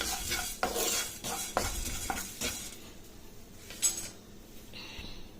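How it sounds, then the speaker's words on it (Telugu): Rice grains stirred in a hot pan while making raw banana pulusu curry, a close scraping and clinking of the spoon with a light sizzle, strokes strongest early then thinning out. "ఇది కూడా కాస్త కలర్ మారే వరకు మనం కలుపుకోవాలి."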